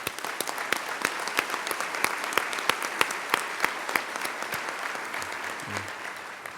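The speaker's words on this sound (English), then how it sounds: "let's give them a round of applause" An audience at the Huntsville, Alabama mayor's 2011 State of the City address claps steadily for city partners who stand, a dense, even burst of applause lasting several seconds.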